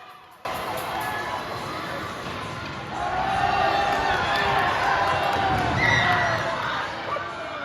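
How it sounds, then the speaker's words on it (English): A crowd at the 2024 K1 California State kart race cheers and roars in a steady wash of noise that swells louder about three seconds in and stays high to the end, with voices shouting throughout. "As you can tell, the crowd goes absolutely wild"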